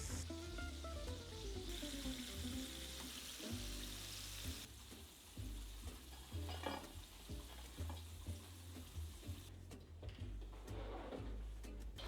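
Steady, close crackling and sizzling of Korean fried chicken in hot oil, continuous and fairly quiet, with faint music behind it.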